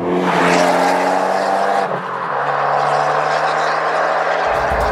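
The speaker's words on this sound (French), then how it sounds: "l'échappement sur Record Monza est juste assourdissant" An Abarth 124 Spider with a Record Monza exhaust roars loudly and steadily close by, its engine note dropping slightly partway through before holding a deep, buzzy drone.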